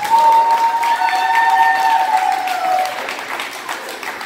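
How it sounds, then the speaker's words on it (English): Crowd at a wrestling event applauding and cheering, with a sustained whistle and shouts riding over steady clapping that slowly eases off. "Let's give all of these participants a big round of applause."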